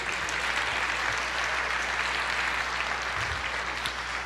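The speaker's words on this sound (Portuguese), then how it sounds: "Você pode aplaudir o Senhor" Church congregation applauding during an Easter sermon, a steady, dense wash of clapping that holds evenly throughout, fairly distant with a low hum underneath.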